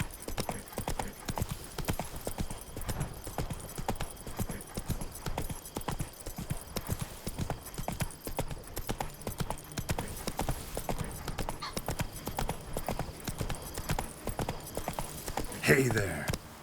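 Horse hooves galloping in The Witcher 3, a fast steady clip-clop rhythm carrying throughout, with a brief burst of other game sound near the end.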